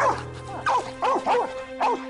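A dog barks and yips in short bursts, about five close, sharp calls at an uneven pace, with quiet background hum between them.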